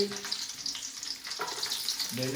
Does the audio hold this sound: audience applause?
no